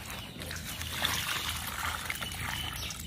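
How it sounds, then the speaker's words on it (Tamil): Water is poured onto a newly planted banana sapling, a short, continuous splashing trickle at close range. "அடுத்து தண்ணி ஊத்தணும்."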